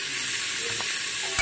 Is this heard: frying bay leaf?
yes